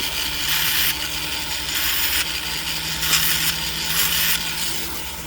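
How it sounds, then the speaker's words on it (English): White gold rings have their sides ground down on a bench grinder or sanding tool, a steady abrasive whir with repeated rhythmic passes, close and fairly loud, with no talking. "Grind them sides down a little bit."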